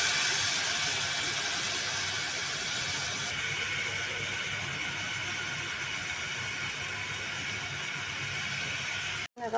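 Onion and garlic frying in hot oil, a steady loud sizzle and hiss that runs unbroken and close before cutting off abruptly at the end.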